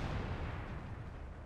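Heavy tank cannon fire in World of Tanks, a sustained deep low-end boom with rumbling tail filling the whole short moment, loud and close, with no voices.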